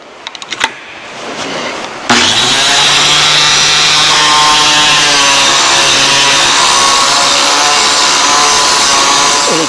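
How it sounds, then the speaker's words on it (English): A bench blade sharpener grinder grinds a lawn mower blade, spinning up after a brief clatter and then holding a loud, steady, rasping whine with constant grinding texture throughout. "Grinder back in."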